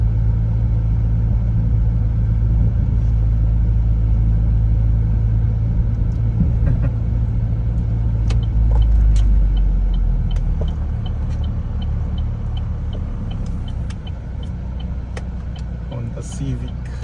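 Steady low road rumble along a highway, a continuous heavy drone with light clicks and faint voices, easing slightly toward the end without distinct pass-bys.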